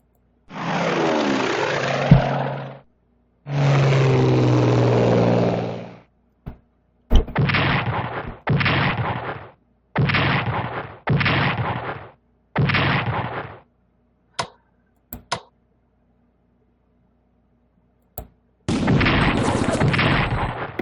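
Bombing and artillery effects in the WWII strategy game Strategic Command WWII: Europe at War: two long roaring blasts, then a run of shorter booming bursts and a few sharp cracks, each separated by dead silence.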